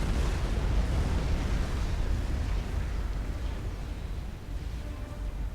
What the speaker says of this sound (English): he died to the P-Gen explosion